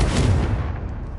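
A Confringo fire spell erupts in the game Hogwarts Legacy as one loud, booming blast that fills the moment and then rumbles away.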